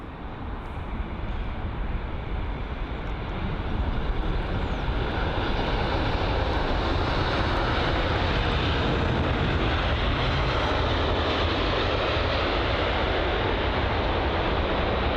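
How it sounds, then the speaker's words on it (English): A Finnair Airbus A350-900 arriving at Heathrow on runway 27 right from Helsinki builds into a strong, broad engine roar after a few seconds and then holds loud and steady, with no talking. "the Finnair A350-900 arriving from Helsinki"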